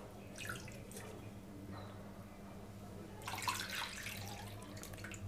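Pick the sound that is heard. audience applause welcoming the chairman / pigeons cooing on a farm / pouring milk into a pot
pouring milk into a pot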